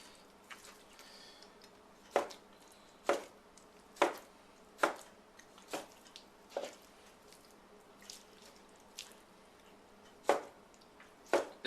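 A knife chops steak into roughly one-inch blocks on a board for Samoa Island steak, about ten sharp, close thunks coming at an uneven rhythm, with faint wet squishes between them and no talk.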